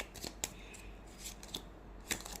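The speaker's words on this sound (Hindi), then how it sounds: "बार बार बहुत ज़्यादा कार्ड्स आ रहे हैं, एक बार फिर से शफल करती हूँ" Tarot cards are shuffled in a few soft, quick riffling and sliding bursts, quiet against a steady background hiss.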